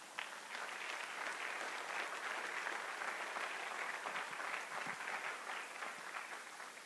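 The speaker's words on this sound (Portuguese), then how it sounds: "Você pode aplaudir Jesus por isso, cara?" A church congregation applauding during a sermon, a dense, even wash of clapping that holds steady throughout, fairly faint and distant.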